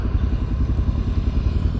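A Suzuki DRZ400SM motorcycle on the Rampart Range trail, its single-cylinder engine chugging loudly and steadily at low revs, close up, with rhythmic pulsing and wind rumble.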